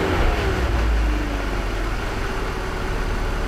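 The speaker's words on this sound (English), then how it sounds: "Start the car and rev the engine to see if you hear any strange noises." A used car's engine runs at a steady idle, a loud, close, low rumbling drone with a brief surge at the start and no talk.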